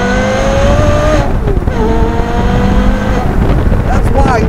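Porsche Carrera GT engine revving hard and changing pitch repeatedly, loud and close as if heard from inside the car, under a steady roar of road noise.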